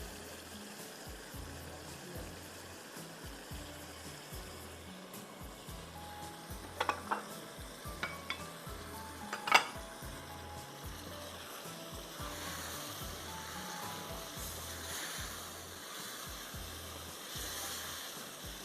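Chicken karahi with yogurt frying in a covered pan, a continuous low, hissing sizzle like rushing water, with a few brief metallic clinks partway through.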